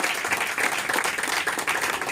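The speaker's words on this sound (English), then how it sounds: "You guys need to give yourselves a round of applause for that." An audience at a sales meeting breaks into steady applause, a dense wash of many hands clapping at once, fairly loud and continuous with no talking over it.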